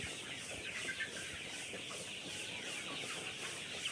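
Desi chickens and chicks cluck and chatter together at a moderate distance in a hatchery in Mymensingh, a busy, continuous flock sound with soft peeps mixed in.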